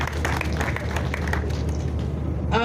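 Audience applause for the Lagos State police public relations officer at a youth and social development event, a steady broadband patter of many hands held throughout, with a faint voice at the end.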